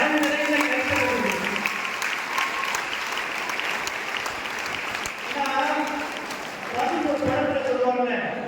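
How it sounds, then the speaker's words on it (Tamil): Applause from a packed audience fills a college hall during a Tamil debate show, a dense continuous patter of many hands lasting several seconds, with a voice speaking over the start and again near the end. "கை தட்டலை சிக்கனப்படுத்தினாம அரங்கு நிறைந்த கைத்தட்டு"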